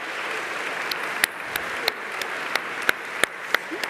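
Audience applause at a closing ceremony: a steady, dense wash of clapping with a few sharper individual claps standing out, and no talking over it.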